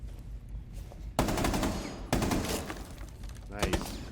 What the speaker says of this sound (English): They're still shooting down there.